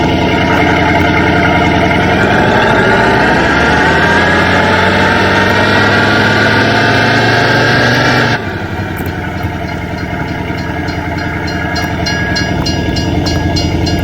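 A Mercedes car engine in Farming Simulator 19 runs loud and close, its pitch climbing gradually, then drops abruptly to a lower steady idle-like drone.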